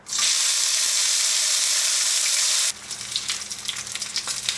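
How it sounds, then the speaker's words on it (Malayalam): A loud burst of sizzling as dried red chillies and spices hit hot coconut oil for egg kurma, then dropping to a softer crackling fry with light stirring scrapes. "അതിലേക്ക് നമുക്ക് ആദ്യം തന്നെ മസാലകൾ ഇട്ടിട്ടൊന്ന് വറുക്കാം."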